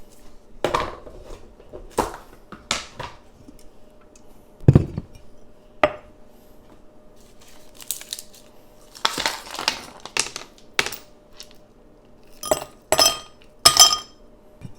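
Ice cubes dropped and clinking in a glass while a grapefruit vodka spritz with pomegranate is made, sharp irregular clinks and knocks, some clustered and louder, with quiet gaps between them.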